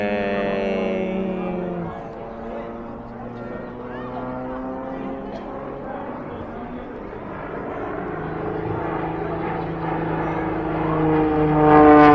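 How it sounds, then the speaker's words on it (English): A small aircraft drones overhead at the Williston Airshow, a steady engine tone whose pitch slowly shifts and swells louder toward the end, heard from the ground at moderate distance. "There's gonna be a bunch of small aircraft gonna fly over."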